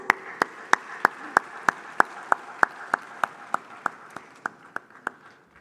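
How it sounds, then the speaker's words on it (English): At an annual meetings event, an audience gives a round of applause that arrives as a slow, steady train of sharp individual claps, clear and fairly close, gradually softening toward the end. "Please, a round of applause."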